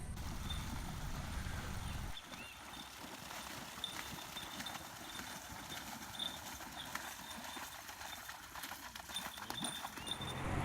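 Pantanal cowboys' horses running through wetland, steady hoofbeats and splashing carrying through a busy wash of ambient noise, heavier low rumble in the first two seconds before settling into continuous movement.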